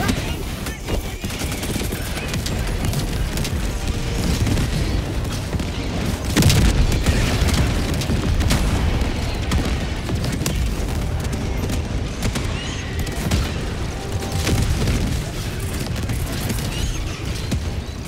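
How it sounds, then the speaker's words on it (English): Grenades and explosions boom through a dense, loud barrage in the video game Helldivers 2, with repeated blasts and rattling fire running the whole time and occasional voices beneath. "Grenade!"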